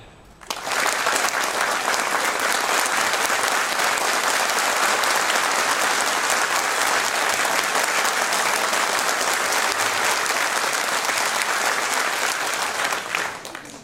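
A crowd bursts into loud, sustained applause that holds steady for over ten seconds, then stops abruptly.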